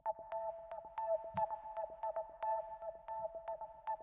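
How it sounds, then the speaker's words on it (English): A step sequencer effect plugin producing a rhythmic gated synth pattern, steady pulsing tonal beeps chopped into regular steps with sharp clicks, quiet and alone. "It's a step sequencer, and just this alone on it sounds like this."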